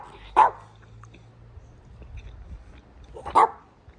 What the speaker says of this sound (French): Et mon chien est complètement fou.